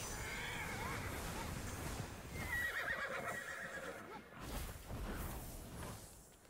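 A horse in Immortals Fenyx Rising whinnies loudly and steadily, with hoof clip-clops and swishing game effects around it and a faint voice in the background.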